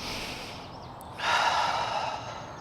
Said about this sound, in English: we're just going to stay here for 2 more really deep breaths